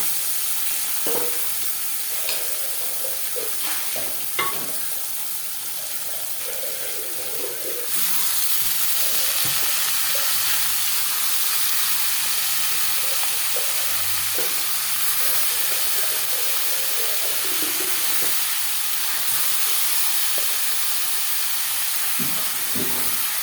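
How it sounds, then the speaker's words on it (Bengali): Cabbage frying in a pan: a continuous hissing sizzle that grows louder partway through, with occasional stirring scrapes and knocks, close and steady. "এখন আমি বাঁধাকপিটা দিয়ে দেবো।"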